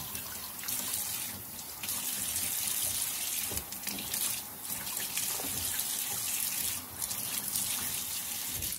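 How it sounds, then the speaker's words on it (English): Cold water runs from a tap into a bowl of chitterlings, a continuous close gushing splash with brief dips and surges as the stream shifts, no talk over it. "I'm gonna pour the water off that's in here now in my bowl, and I'm gonna add some more cold water."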